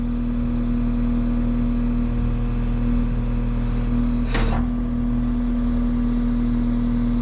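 A skid steer engine runs at a steady idle nearby, a constant mid-pitched hum with one brief whooshing swell partway through and no voices.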